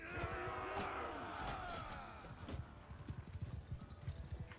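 Horse hooves clip-clop in rapid galloping rhythm during mounted combat in the video game Mount and Blade II Bannerlord, steady at first and then in sharper separate thuds, with a faint whinny and game noise underneath.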